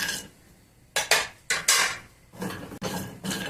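Pistachios are tossed and dry-roasted in a pan for dry fruit laddu, heard as short bursts of metal scraping and rattling that come in quick, close clusters between quiet gaps.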